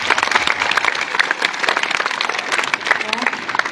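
A school assembly crowd at a high school applauds loudly and steadily, dense clapping mixed with cheering voices throughout.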